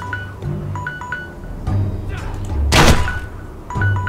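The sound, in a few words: crossbow bolt hitting target dummy, Game of Thrones Telltale video game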